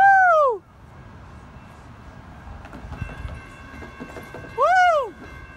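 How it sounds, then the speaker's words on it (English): Manifest freight train passing the old Kent station in Washington, with a loud two-tone horn blast that bends down in pitch, then a steady rumble and clatter of cars before another falling horn blast. "Here comes a train right now. I think it's a manifest."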